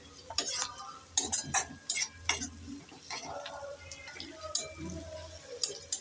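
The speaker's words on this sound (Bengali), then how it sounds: "এবার দিয়ে দেব 1 চিমটি হলুদ। একটু নেড়ে চেড়ে দিয়ে দেব।" A spatula scrapes and clacks against a pan as fried okra, potato and spices are stirred with a pinch of turmeric, giving irregular sharp metallic strokes over a low sizzle.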